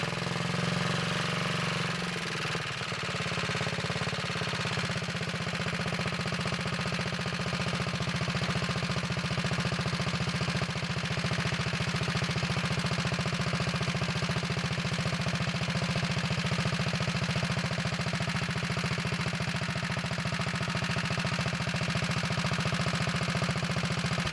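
A Wheel Horse Model 401 lawn tractor engine runs continuously at a steady idle, close and loud, its rhythmic chug briefly revving near the start.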